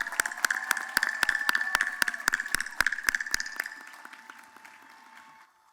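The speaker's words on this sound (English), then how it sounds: "Please let us have another round of applause for our cohort of doctoral degrees from Elizabethtown College." Audience applause at the Elizabethtown College commencement for the cohort of doctoral degree recipients, a dense hall-wide clapping with a few sharp nearby claps standing out, tapering off and fading to near silence by the end.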